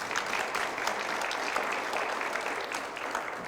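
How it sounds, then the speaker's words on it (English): An audience at a Westbank First Nation leadership recognition event claps for Raf, with soft, even applause from a fairly distant crowd that carries steadily from start to finish. "So give Raf a round of applause."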